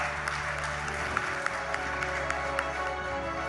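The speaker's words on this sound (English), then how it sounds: "Can we have a loud round of applause, ladies and gentlemen" An audience gives sustained applause for an Olympic gold medallist, steady, dense clapping from a crowd at moderate distance with a few sharper claps standing out.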